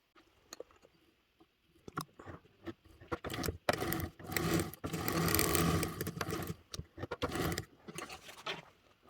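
A sewing machine stitches straight lines through fabric in short, close bursts of whirring motor and needle tapping, louder in the middle and stopping and starting, with small handling clicks between runs.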